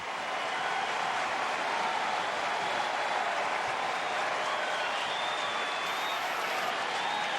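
A big baseball crowd at a Cubs home game against the Pirates applauds and cheers in a dense, continuous roar that stays loud and even throughout.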